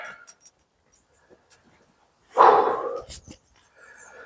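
A dog at a lakeside carp-fishing bivvy gives one brief whining yelp, close and fairly loud, between quiet stretches with faint ambient noise.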